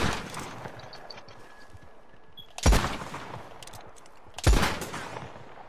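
Gunshots: a quick burst of shots at the start, then two loud, sharp bangs a couple of seconds apart, each ringing off briefly against a quiet background.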